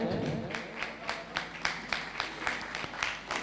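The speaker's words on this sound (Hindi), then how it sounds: "कृपया जोरदार तालियां भैया जी के सम्मान में बजाएं।" An audience at the final of a Hindi extempore speech competition claps rhythmically in honour of a competitor, a steady run of sharp, regular claps lasting several seconds.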